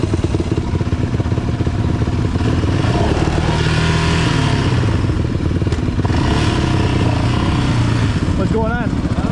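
A motorcycle engine making a weird noise drones loudly and steadily up close with some rattling clatter, and voices talk faintly underneath.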